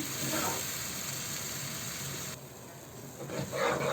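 Masala with onion frying in a pan, a steady sizzling hiss that thins out midway and then flares up again near the end, close and moderately loud.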